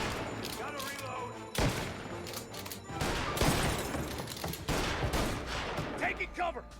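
Bursts of gunfire ring out in the Mafia video game, with scattered shots and rapid volleys repeating across the scene. Other game noise runs under them, and voices are partly heard in the mix.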